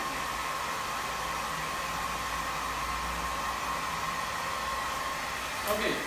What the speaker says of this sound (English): the question is where to put the dryer